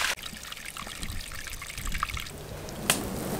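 Water draining from a tank on a ranch, a continuous trickling and pouring stream heard close, steady throughout with a brief louder splash near the end, no talk.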